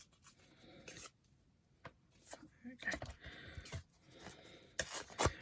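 Someone struggles to tear open plastic-coated packaging, producing scattered rustling and ripping bursts with pauses between attempts, all under a person talking close by.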